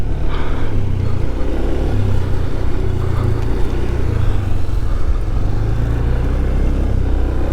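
Ride on a 2024 Honda Scoopy scooter, with a steady engine drone and road rumble heard continuously and close up, with no talking.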